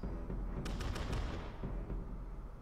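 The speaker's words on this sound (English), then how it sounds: "Shoot your cannons." A quick burst of several sharp cannon-like blasts in rapid succession in Totally Accurate Battle Simulator, fairly faint, followed by a low rumbling tail.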